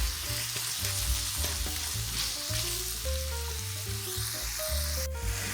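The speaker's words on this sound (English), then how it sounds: "we're going to continue to cook our ground beef till everything is brown" Ground beef frying and browning in a pan for stuffed bell peppers, a loud steady close sizzle with repeated spatula scrapes and clinks, no voices.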